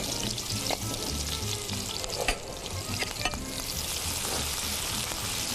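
Large sliced onions fry in a pot for a stew, giving a steady close sizzle broken by scattered clicks and scrapes of stirring.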